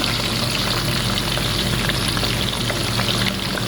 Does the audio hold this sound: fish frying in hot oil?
yes